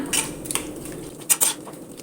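A spoon scrapes and clinks against a cooking pot while apple pulissery is mixed, with a few sharp metallic taps and soft stirring between them, close and without talk.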